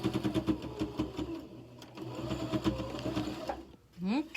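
A sewing machine backstitches a microwaveable bowl cozy, its needle chattering in quick rhythmic bursts that stop and start, with someone speaking softly over the stitching.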